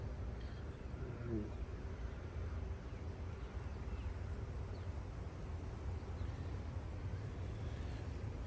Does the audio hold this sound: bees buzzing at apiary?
yes